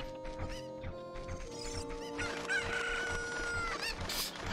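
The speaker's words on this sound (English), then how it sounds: "Chicken? Chicken?" Chicken crowing and clucking from Ocarina of Time, a bright rooster-like call rising over busy game music and effects, steady and fairly close throughout.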